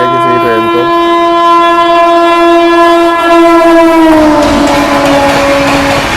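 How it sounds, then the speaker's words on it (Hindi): An express train rushes past at speed, its loud sustained horn blaring steadily and then dropping in pitch as it passes, with rumbling rail noise swelling up close. "और अपनी ट्रेन भी आ रही है।"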